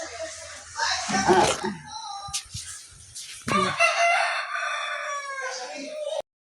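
A rooster crows loudly nearby, followed by a second long crow, with a person talking briefly in between.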